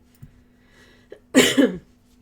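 One close, harsh cough in a short double burst, standing out against a quiet room with a low steady hum.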